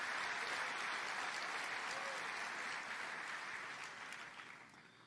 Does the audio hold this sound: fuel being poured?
no